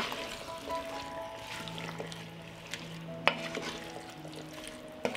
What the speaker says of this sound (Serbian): I krompir ću promešati.